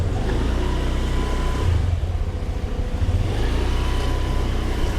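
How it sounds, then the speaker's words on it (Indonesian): A car passes close by on a road, its engine drone steady and loud throughout with a slight swell and dip as it goes past; no talking. "Sebentar, ada mobil."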